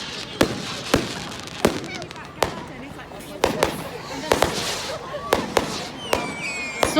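Fireworks from a Bonfire Night display on 5 November pop and bang over an open field, sharp reports repeating every half second or so with crackling in between, while voices talk beneath.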